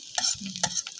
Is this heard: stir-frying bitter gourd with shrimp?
yes